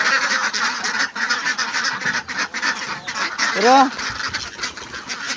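A dense flock of ducks quacking and honking continuously nearby, loud overlapping calls with a brief spoken word among them.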